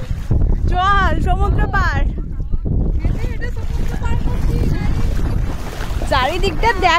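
Sea waves at a beach in Bakkhali make a steady, broad wash of surf that runs through the whole stretch, roughened by wind buffeting the microphone, with voices heard over it at the start and again near the end.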